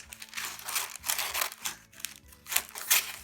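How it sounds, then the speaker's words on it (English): Wax paper crinkles and rustles as scissors snip through it in several uneven crisp cuts, close up, with no voices. "So our scissors, we just want to go ahead and cut those."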